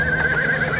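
A horse gives a loud, close whinny that holds one high wavering tone through a brief moment, at a horse-riding spot in Baguio.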